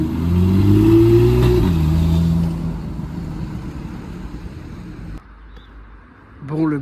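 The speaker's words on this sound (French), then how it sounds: "je vous filme une petite Jaguar là tout de suite" A Jaguar car passes during carspotting in Gérardmer, its engine revving loud and close for about two seconds before fading into the distance, followed by quieter street ambience and a brief voice near the end.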